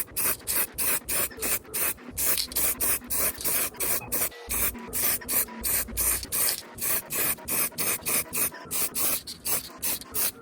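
Spray paint going on in rapid short bursts as another coat is laid onto a Scout II pickup truck, a close hissing spray pulsing on and off steadily with no talk.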